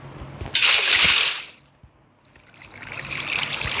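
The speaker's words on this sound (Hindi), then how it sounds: "सबसे पहले तो यहाँ पे आज पानी डाल के छोड़ देते हैं" Minecraft water pours out in two loud sloshing, splashing bursts separated by a brief quiet gap.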